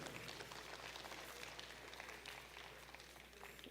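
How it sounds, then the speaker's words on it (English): Distant crowd applause at an FFA steer and heifer livestock show, a steady wash of many hands clapping, heard faintly over a low background hum. "Let's give all these exhibitors one more big round of applause."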